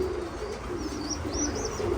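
Pigeons of good breeding lines at a pigeon farm coo softly and steadily, low throaty calls repeating under a continuous background hum, with faint chirps higher up.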